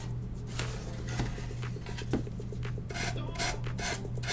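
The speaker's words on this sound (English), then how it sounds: "Alright, I'm going to sand these edges off." Edges are sanded by hand on a DIY craft project, with close, steady scraping strokes over a constant low hum and no talking.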